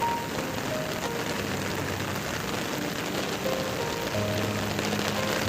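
Heavy rain pours steadily during a flood, a dense, even hiss of drops drumming on surfaces close by for several seconds, with no voices.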